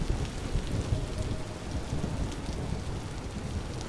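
Steady heavy rain pours throughout in the survival game Vintage Story, with low thunder rumbling beneath it; loud, close and continuous, no voices.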